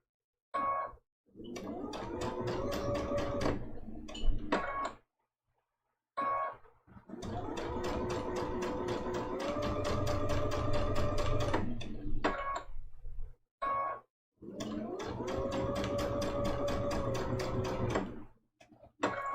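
A sewing machine stitches raw-edge appliqué on a Christmas ornament trivet quilt, running in three steady bursts of whirring, ticking needle action with brief pauses between, close and clear with no talking.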